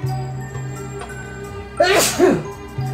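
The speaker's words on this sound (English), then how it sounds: "Delayed sneeze." One loud, sharp sneeze bursts out after a low hum of a voice, followed by a short trailing exhale.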